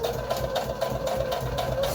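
A hand-cranked sewing machine stitching a foundation paper pieced Christmas star, a steady close mechanical whir with an even rhythmic pulse of stitches, no voices.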